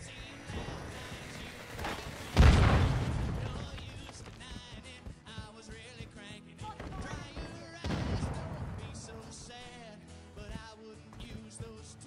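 In the video game Call of Duty, a frag grenade goes off as one heavy, booming blast with a rumbling tail, over a constant bed of game music and faint voices.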